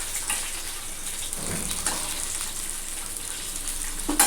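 Punugulu, small fritters of idli batter, fry in hot oil with a soft, steady sizzle and bubbling that runs throughout, fairly quiet and close, with a few light clinks near the end.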